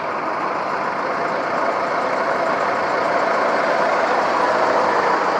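Van and motorcycle engines idle together on a cable ferry crossing the Vivari Channel at Butrint, Albania, a steady, loud broadband rumble that holds even throughout, with no voices over it.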